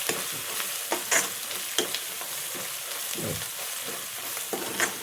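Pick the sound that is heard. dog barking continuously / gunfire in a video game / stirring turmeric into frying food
stirring turmeric into frying food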